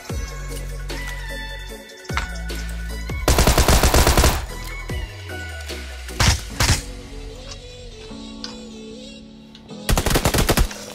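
Automatic weapon fire in the battle royale video game PUBG Lite: a long rattling burst, a few single sharp shots, then another rapid burst near the end, all loud and close over game ambience.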